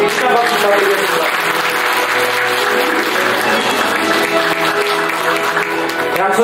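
A hall full of people at a union delegates' assembly ceremony applauds loudly and steadily, a dense sustained clapping that fills the space with no letup.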